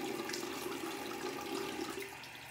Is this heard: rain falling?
no